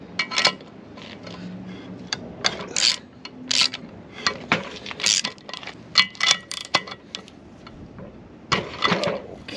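Ratchet clicks and sharp metallic clanks come in irregular bursts as spark plugs, AC Delco, are wrenched out of a junkyard cylinder head on a workbench. The sounds are close and there is no talking.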